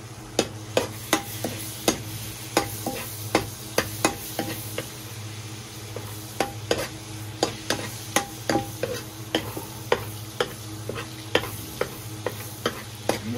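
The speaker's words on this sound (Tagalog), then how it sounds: "Tinaway lang natin ng konti ang butter." Butter melts in a hot pan with a low, steady sizzle, while a spatula scrapes and taps the pan in a quick, regular rhythm throughout, close and fairly clear.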